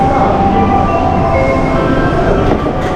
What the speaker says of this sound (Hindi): ये थी अपनी ट्रेन नरिता एक्सप्रेस।